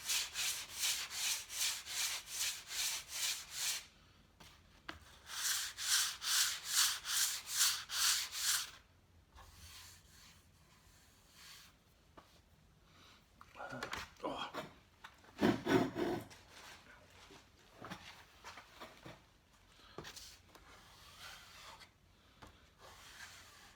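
Rhythmic rasping strokes of sandpaper rubbing on a wooden cabinet by hand, quick back-and-forth bursts in two runs, then quieter, irregular scuffs and handling noises.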